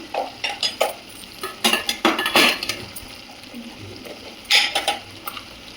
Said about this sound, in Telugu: మిక్స్ చేసుకున్నామండి కలిపి కలుపుకున్నాము